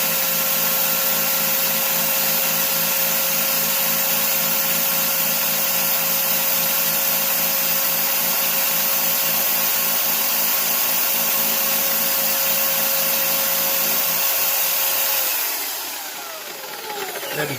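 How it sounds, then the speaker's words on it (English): A power drill bores through a model wagon wheel on a Marklin covered wagon, a loud, steady whirring drone that holds constant before winding down at the end. "now I'm going to drill through the wheel. It's very noisy"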